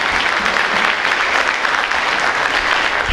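An audience at a senior parent meeting gives steady, loud applause for the women who run the team, a thick unbroken wash of clapping from many hands with no talk over it.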